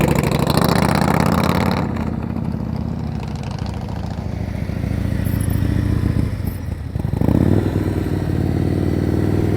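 A motorcycle engine runs steadily through slow-speed riding practice and tight turns, with the throttle held on. The loud, continuous drone swells slightly near the end and carries no talk.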